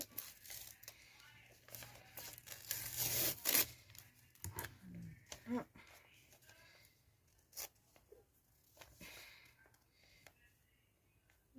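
A parcel's paper and tape tearing in sharp bursts, with crinkling and rustling between rips, close by and fairly quiet.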